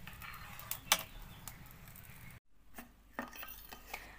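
Sugar being stirred continuously with a metal spoon, scraping and lightly clinking against the container in soft irregular strokes, with one sharper clink early and a brief silent gap midway.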